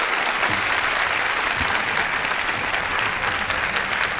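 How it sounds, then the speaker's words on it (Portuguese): An audience claps steadily for several seconds, a dense, even wash of applause without a break. "eu gostaria de pedir uma salva de palmas para o nosso convidado da noite"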